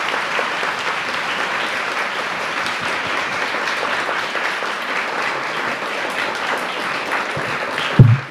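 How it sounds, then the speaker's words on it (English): Audience applause at a talk during the Chetana festival, a steady dense wash of clapping sustained throughout at an even level, ending with a brief thump. "let us all thank Mataji with a big round of applause"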